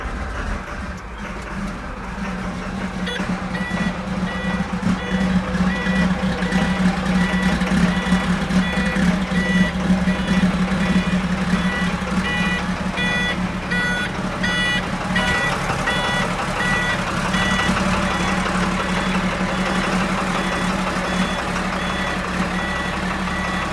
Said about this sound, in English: Now it's gonna beep here for a little bit, so it's gonna be a little loud.